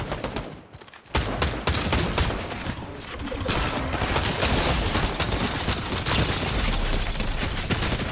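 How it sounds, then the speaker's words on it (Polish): Rapid gunfire in Fortnite rattles in dense, loud bursts, a short lull early on before sustained shooting resumes and continues to the end. "O, strzela do mnie, strzela do mnie."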